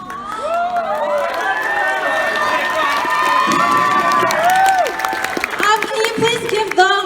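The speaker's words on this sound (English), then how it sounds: "Can you please give them another round of applause" A large show audience claps and cheers loudly and steadily throughout, with shouts and whoops rising over the dense applause.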